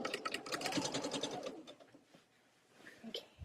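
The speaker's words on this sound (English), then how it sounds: "It feels so weird to be sewing after not sewing for a while." A sewing machine stitching fabric runs in a quick, even, buzzing rattle that stops partway through, leaving a quieter room with faint soft sounds.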